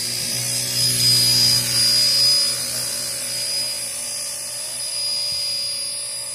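Steady high-pitched whine of a small RC ERA C032 radio-controlled helicopter flying close by in a desert setting, rotor and motor tones rising slightly and holding constant without talk.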